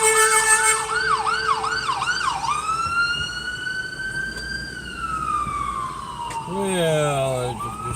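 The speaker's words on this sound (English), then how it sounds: "Well, there's some sirens." Several emergency sirens wail and yelp together, sweeping up and down in pitch, loud and close over steady traffic rumble.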